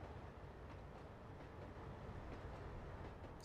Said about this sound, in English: Let's try driving this train.